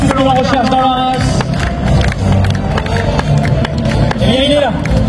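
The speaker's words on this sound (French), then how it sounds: "vous pouvez nous applaudir très fort" Audience applause and cheering at a Limousin cattle show in Libramont, with a dense crowd din and a loud voice over a public address system throughout.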